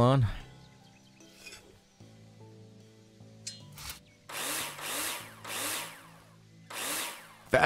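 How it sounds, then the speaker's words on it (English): A power drill runs in the Builder Simulator video game while plasterboard is being fitted, giving four loud whirring bursts in quick succession after a quieter stretch of faint clicks and tones. "Get the drill on."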